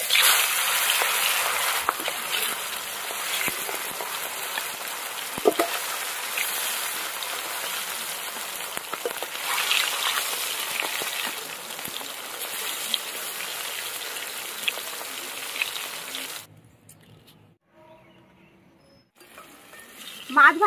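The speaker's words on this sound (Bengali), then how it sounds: "এবার আমি মাছ ভেজে নেব।" Pieces of boal fish coated in salt and turmeric fry in mustard oil, a steady loud sizzling hiss with scattered pops that drops away near the end.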